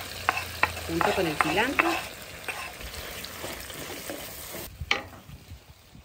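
Chiles and cilantro stirred into a pot of bean soup, with a steady sizzle and clanking stirring strokes up close, a short spoken line near the end.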